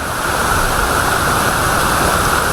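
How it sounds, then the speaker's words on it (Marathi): Numerous waterfalls at KP Waterfall near Khopoli in the Sahyadri hills give a steady, dense roar of rushing water, heard close and continuous with no voices. "अरे बापरे असंख्य धबधबे मित्रांनो जवळून बघायला भेटते आपल्याला"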